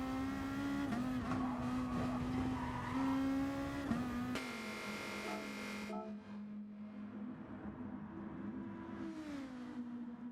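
A race car in Gran Turismo Sport on the Red Bull Ring pulls into the pits, its engine droning and shifting pitch as it slows, with tire squeal and a sudden drop to a calmer, quieter engine note partway through.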